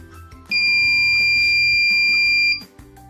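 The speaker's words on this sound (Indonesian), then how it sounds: "buzzer akan berbunyi selama 2 detik, kemudian mati selama 2 detik, dan berbunyi lagi selama 2 detik" An electronic buzzer module sounds a steady, piercing tone for about two seconds, then stops, with faint music in the background.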